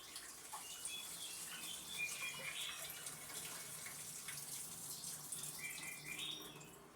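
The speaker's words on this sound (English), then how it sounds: "So I'm going to drain this off." Water drains from a sink holding green beans soaked in distilled vinegar, warm water and baking soda: a steady close splashing trickle with faint bird chirps in the background.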